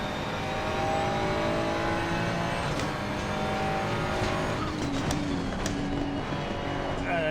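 Sim racing game car engine revving high in the rev range, downshifting and accelerating out of a corner, a steady loud drone with shifting tones and faint tire squeal, a voice talking over it.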